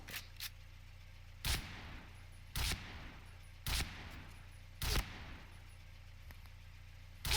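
Five loud gunshots fired one by one at roughly even intervals over a low steady background hum, from a weapon in the video game Point Blank during an armor test.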